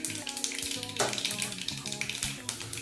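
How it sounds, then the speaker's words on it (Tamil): Half a spoon of fenugreek seeds sizzles in hot oil in a pan for vendhaya kuzhambu, a close, continuous crackle with a person talking over it. "அரை ஸ்பூன் வெந்தயம் போட்டுக்கலாம்."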